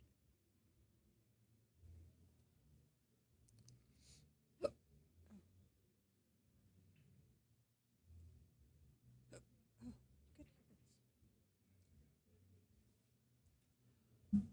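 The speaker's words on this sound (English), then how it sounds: "I now have the hiccups." A person hiccups a few times in a quiet room, each catch a short, sharp burst with long pauses between, with faint breathing and low background murmur.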